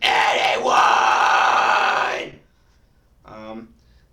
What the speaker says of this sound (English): add your own voice to it, and you get a fry scream